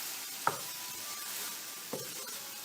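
Garlic and ginger fry in a pan with a soft steady sizzle, broken by a few sharp clinks of a spoon stirring against the pan.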